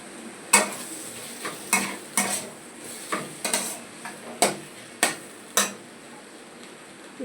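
Egg frying with spices in a pan, with a faint sizzle under a regular run of sharp spatula scrapes and taps against the pan, close and with no talk.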